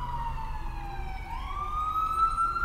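Ambulance siren on a Seattle street in South Lake Union, heard from a car: a loud wailing tone that falls, then rises again, over steady low traffic rumble.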